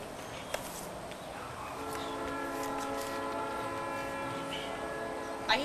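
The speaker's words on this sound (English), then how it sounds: "I hear a train." A train rumbles past with a steady horn sounding several sustained tones, moderately distant, with a few faint clicks and steps nearby.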